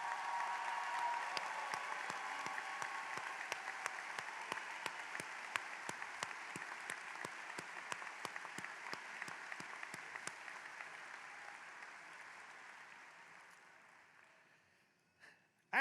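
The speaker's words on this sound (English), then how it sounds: "Audience, please join me in applause as we show appreciation." Graduation audience applause for veterans at a high school ceremony in a large hall, a soft, distant wash of clapping that slowly thins out and fades to near silence.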